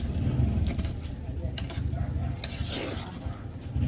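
Sticky rice biko with ube being stirred by hand in a pot, a steady thick scraping and squelching that runs continuously and close by, with faint sizzling underneath.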